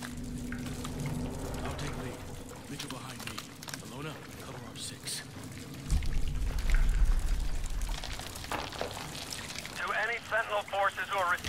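Flowing water in the video game Call of Duty Advanced Warfare, a steady rush and trickle that swells louder midway, with game sounds and bursts of noise layered over it.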